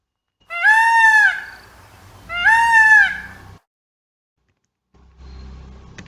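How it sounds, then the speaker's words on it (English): A peacock gives two loud, drawn-out wailing calls in quick succession, each about a second long, sharp and close. A softer, low rustling noise follows after a pause. "This is a peacock."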